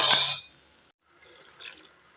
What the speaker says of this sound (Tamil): ஜார் கழுவி ஊற்றிட்டு தண்ணி சேர்த்துக்கலாங்க.